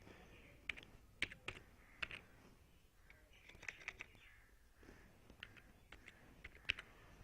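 Sparse, faint keystrokes on a computer keyboard, irregular single taps spread over several seconds in a quiet room, with a few light chirps in the background.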